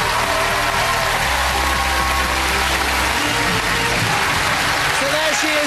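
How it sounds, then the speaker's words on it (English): Studio audience applauding on the TV game show High Stakes, dense sustained clapping over a steady bed of music, with a voice talking underneath partway through. "Give a round of applause."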